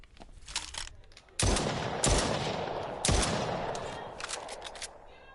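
Gunfire in the video game Stray Souls, a few sharp, loud blasts with reverberant tails over faint background rattling.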